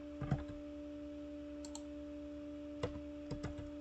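Computer keyboard keys are pressed in a few quick soft click clusters over a constant electronic hum, close and faint.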